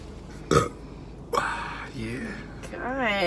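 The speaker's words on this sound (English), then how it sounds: "I burp a lot." Two loud, brief burps ring out, one early and one midway, and voices talk and laugh softly around and after them.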